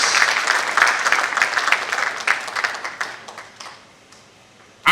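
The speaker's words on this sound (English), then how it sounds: "Can we please give the comrade a resounding round of applause?" Audience applause at an annual public service lecture, a dense burst of clapping that thins into scattered claps and fades out toward the end.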